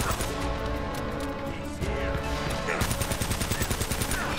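Gunfire in the Uncharted: Drake's Fortune shooter, with scattered shots and impacts early, then a fast regular burst of automatic fire in the final seconds, loud and close, with no talk.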